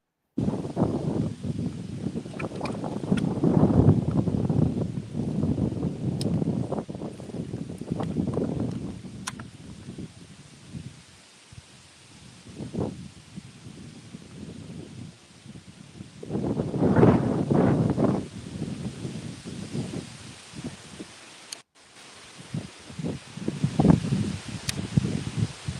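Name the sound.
strong wind blowing outdoors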